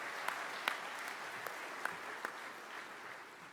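A conference audience at a business session gives a warm round of applause, with thin, fairly distant clapping and a few sharper individual claps standing out.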